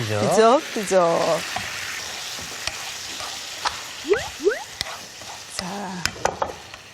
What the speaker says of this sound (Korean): 꽈리고추 들어가고 그냥 살짝만 뒤적이면 돼요